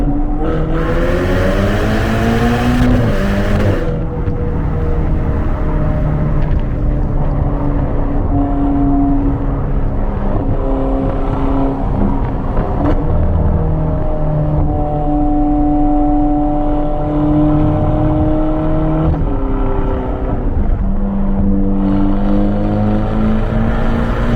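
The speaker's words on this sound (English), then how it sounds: "when you want to listen to it, it does give you that race exhaust note" A loud, throaty Ferrari Portofino race exhaust drones and revs continuously, its pitch rising and falling with gear changes, close and dominant throughout.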